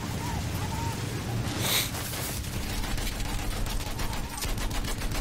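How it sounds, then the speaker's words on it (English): Rapid machine-gun bursts in the video game Battlefield 1 rattle against a tank, with a sharp blast near the start and then dense repeating shots, while a player talks over the fire. "using a machine gun against the tank isn't exactly the world's best battle plan"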